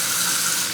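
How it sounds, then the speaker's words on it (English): Tap water running steadily into a sink or tub while filling a newborn's first bath, a continuous close hiss with no pauses. "leave the water on"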